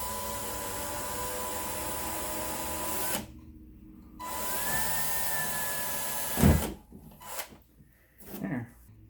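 A power drill bores a hole through the hull of an Old Town kayak, a steady whirring run that stops, restarts, then ends in a few bumps and handling knocks.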